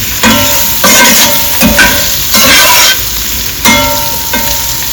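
Spoon scraping and stirring potato slices frying with drumstick leaf powder in a pan over low flame, rhythmic strokes every second or so over a steady close sizzle.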